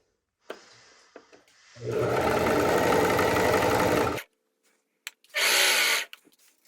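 Sewing machine stitching piping onto pajamas: a couple of soft handling clicks, then a steady rapid run of needle stitching for about two and a half seconds, a pause, and a second shorter burst, close and clear.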